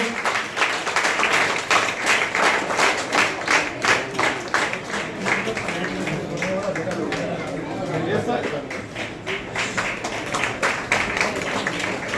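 A crowd gives rapid, steady applause at a railway retirement farewell at Northern Railway HQ in New Delhi, with many hands clapping at once, nearby and sustained, while voices chatter through it.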